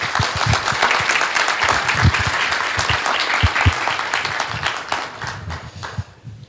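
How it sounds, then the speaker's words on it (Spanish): A room full of people applauds, dense clapping continuing steadily for several seconds before thinning out toward the end. "Un aplauso para Humberto"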